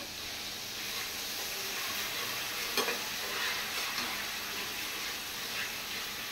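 Ginger and garlic frying in a pan for chicken biryani, a low steady sizzle and hiss heard faintly throughout, with an occasional soft stirring scrape.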